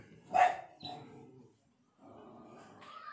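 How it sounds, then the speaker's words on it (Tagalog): A single sharp dog bark rings out nearby against a quiet room, followed by softer muffled sounds and a brief pause. "Pasensya na sa ingay ng aso."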